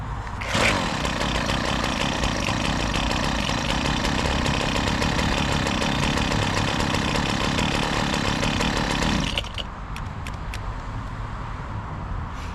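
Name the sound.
hedge cutter engine revving and cutting out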